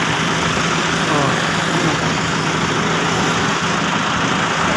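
Several motorcycles race by on a road, a loud, steady engine roar filling the scene without clear breaks between passes.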